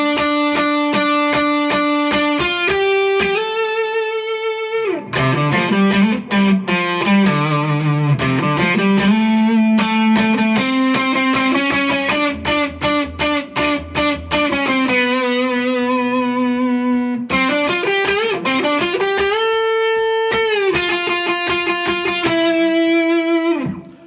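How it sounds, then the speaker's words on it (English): Guitar solo from a song, played on a heavily effected, distorted electric guitar with clear sustained melodic notes and bends, continuous and loud throughout. "And that takes us to the guitar solo,"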